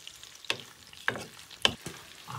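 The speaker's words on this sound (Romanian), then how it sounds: "Așa, îi amestecăm bine, îi lăsăm un pic să se prăjească." Garlic shrimp fry in a pan as they are stirred. About four sharp scraping stir strokes cut through a faint, soft sizzle, with no voices.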